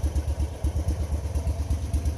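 A 65-year-old BMW Isetta's one-cylinder, 13-horsepower engine putts along at an idle-like pace, a steady rhythmic low thumping that is close and fairly loud, with some light mechanical clatter and no voices.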